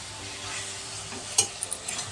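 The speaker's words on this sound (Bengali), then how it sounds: "সব একটু ভালো করে মিশিয়ে ভেজে নিচ্ছে" Chicken filling sizzling as it is stirred and fried in a pan with turmeric, salt and chili powder, a steady soft hiss with a few brief clinks of the spoon near the end, no talk.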